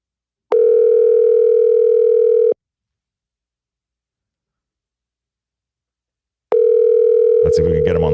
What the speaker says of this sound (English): It's ringing like if he's in the U.S.